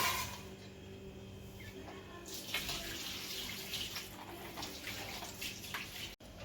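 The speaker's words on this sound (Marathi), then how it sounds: "तर मी सगळे भोकरणं तोडून घेतले तर आता हे मी धुवून घेते" Bhokar (lasoda) fruits are washed under a running tap, a steady broadband rush of water filling a vessel, growing louder and more agitated after the first couple of seconds, with no talk.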